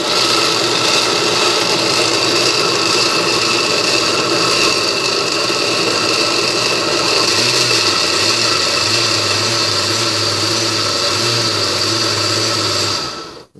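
An Oster Dual-Action blender grinding peanuts into peanut butter runs loud and close with a steady motor whine and gritty churning, its pitch wavering slightly midway before it cuts off at the end.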